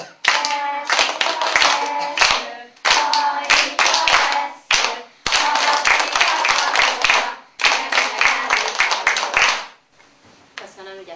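A first-grade class claps a rhythm together in a music-lesson setting, sharp group hand claps in phrased bursts with brief pauses between them, singing-like voices mixed in, ending in near quiet.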